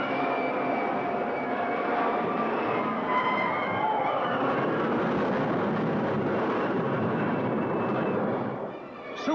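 Roaring supersonic jet aircraft from a 1950s monster movie trailer, a loud continuous engine rush holding steady for about nine seconds before easing slightly at the end, heard alone with no talk.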